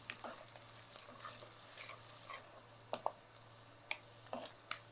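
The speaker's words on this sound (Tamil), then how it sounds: "வெங்காயத்தோடு ஒரு சிட்டிகை உப்பு. வெங்காயம் கொஞ்சம் நல்லா வதங்கட்டும்." Onions with a pinch of salt sautéing in a pan: a soft, steady sizzle runs underneath, with light scraping taps from stirring scattered through, and a low hum in the background.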